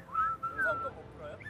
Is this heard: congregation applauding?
no